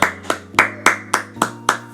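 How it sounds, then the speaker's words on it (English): Seven sharp claps in a steady rhythm, close and loud, like a single person clapping alone rather than a crowd, with no voices. "Give him a round of applause"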